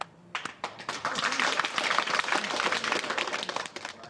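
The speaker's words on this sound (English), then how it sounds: "Round of applause for me." Short burst of clapping and applause from a small group during a construction-themed challenge, rising quickly after a voice and sustaining loosely with uneven, close claps.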